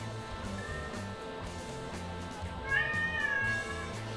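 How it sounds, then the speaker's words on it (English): A cat meows in the mobile game Watcher of Realms, a drawn-out, rising-and-falling cry heard clearly over looping background music. "The cat is happy too, apparently."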